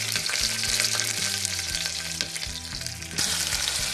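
Chilli sizzles and fries in hot ghee in a pan, a loud continuous crackling hiss with a stirring scrape now and then, no voices.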